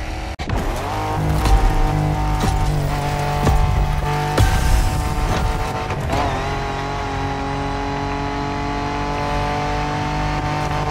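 A car races off-road in The Crew Motorfest, its engine loud and close, revving and shifting through gears with rising and falling pitch, tires scrabbling and squealing, carrying on steadily without pause.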